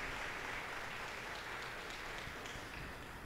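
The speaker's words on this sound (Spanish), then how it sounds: "Que se sienta ese aplauso para todos y cada uno de ellos" Congregation applause at a Novena service for the Immaculate Conception in Galeras, a steady, fairly faint wash of clapping that holds evenly for a few seconds with no voices on top.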